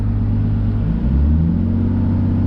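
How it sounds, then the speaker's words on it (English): An RB25DET engine with a straight pipe exhaust rumbles deep and steady nearby, a slight throttle rise briefly lifting the drone. "But on the throttle, it should go up."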